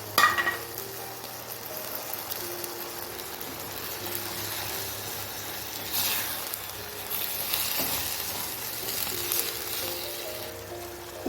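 Merguez sausage and green tomatoes sizzle steadily in a frying pan, a close, continuous crackle with occasional stirring scrapes and no talk.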